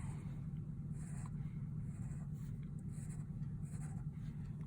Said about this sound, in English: I'm going to draw little lines on it